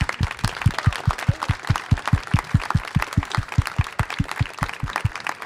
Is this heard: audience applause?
yes